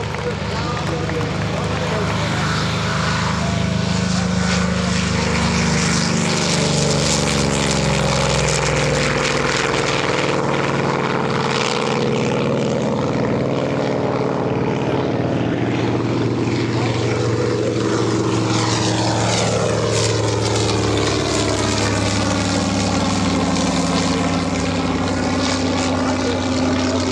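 Grumman Bearcat propeller fighter flying at the EAA AirVenture airshow, a loud sustained engine roar that rises and falls as it passes, with an announcer talking over a loudspeaker throughout.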